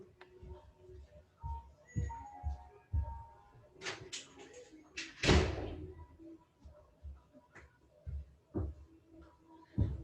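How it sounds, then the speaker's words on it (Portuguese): A door is shut indoors, a brief knock and thud standing out amid a room with light background noise and faint speech, with neighbors' music reported nearby. "deixa eu fechar aqui a porta"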